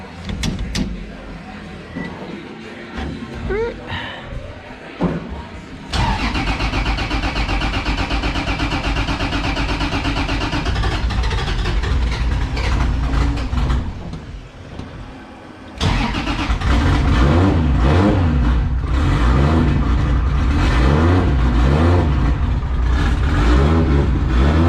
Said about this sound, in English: Just getting ready to fire up and make sure the clutch is all good.